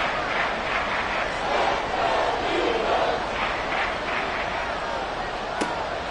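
Stadium crowd in the Madden NFL 24 football video game, a steady roaring swell of fans near the goal line, continuous and moderately loud beneath a commentator talking.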